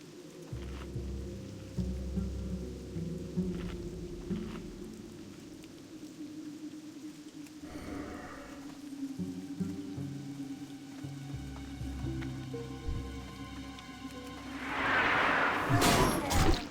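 Steady rainfall in World of Warcraft, a soft continuous hiss running throughout beneath low game ambience and occasional thuds, with a louder burst of noise near the end.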